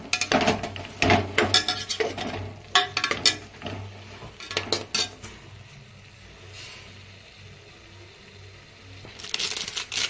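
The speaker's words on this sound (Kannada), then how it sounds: "ಚೆನ್ನಾಗಿ ತಿರುಗಿಸ್ಕೊಡಿ." Mushrooms being stirred in a pan for a simple Bangalore-style mushroom biryani: repeated clinks and scrapes of a utensil against cookware, busiest in the first five seconds, then quieter frying and another burst of clatter near the end.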